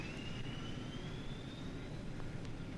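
Steady jet engine whine from a children's story record, a thin high tone slowly rising in pitch over a constant low roar, moderately faint and with no voices.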